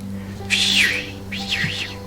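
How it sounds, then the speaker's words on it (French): Two bright, warbling bird chirps in a row, fairly close, over a low steady hum, with no talking. "C'est un oiseau en plus."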